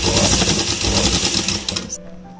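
A sewing machine runs a straight seam on a suit or kurti sleeve with a fast, dense mechanical rattle for about two seconds, then stops abruptly. The sound is close and heard on its own.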